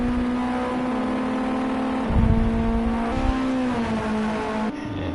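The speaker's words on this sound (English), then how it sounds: "You can hear the engine of Winky's car behind." Race car engine from a competitor at Donington Park National circuit during a weekend cup race, a sustained droning whine with a brief louder surge midway, heard from onboard under a steady engine tone.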